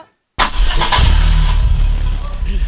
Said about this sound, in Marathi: गाडी सुरू करू? हा गाडी सुरू कर.